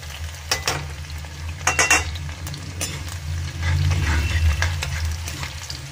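Onion and green chillies fry in a pan, a soft sizzle running underneath while a spoon clinks and scrapes against the metal in a few short bursts of stirring.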